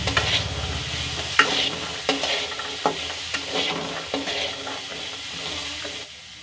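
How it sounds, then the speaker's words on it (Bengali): Peas are stirred into fried spices in a pan, giving a close, continuous sizzle broken by repeated scraping and clinking strokes of the spoon, with no talking. "মটরশুঁটিটা এবার নেড়ে মশলার সাথে মাখিয়ে নেব"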